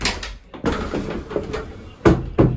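An interior bathroom door swings open and knocks against the toilet, giving several close wooden bumps and thuds in a small room, with rustling between the impacts.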